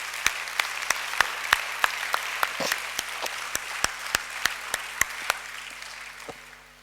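Rhythmic applause from a church congregation at a solemn convocation acclaiming the Lord, steady evenly spaced claps with a hollow reverberant quality, moderately loud and without speech.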